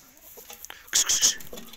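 Farmyard chickens kept with sheep cluck in a short, loud burst of squawks after some soft rustling, with a voice faintly present.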